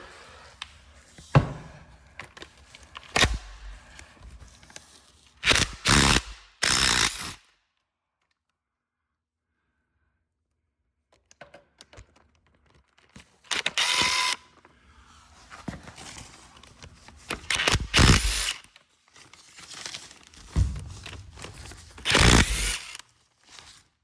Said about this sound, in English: The Sawzall is definitely the way to go